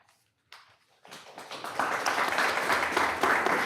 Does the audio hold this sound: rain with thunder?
no